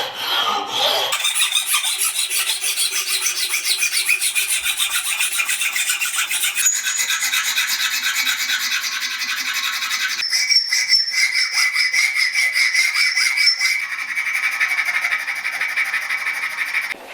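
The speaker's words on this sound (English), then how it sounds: "Rasping the handle of Farrier hammer with Farrier rasp." A farrier rasp files steadily along the wooden handle of an old farrier hammer, a continuous close, loud scraping rasp with repeated strokes and no talk.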